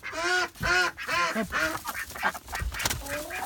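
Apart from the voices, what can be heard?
ducks quacking at night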